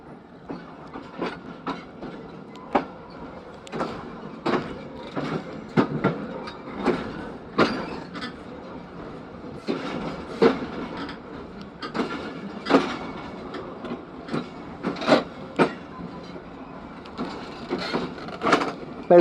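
The Khyber Mail passenger train runs along the tracks in Pakistan near Khanewal, with steady clickety-clack wheel beats coming in irregular bursts over a low rolling rumble, moderately close and without voices.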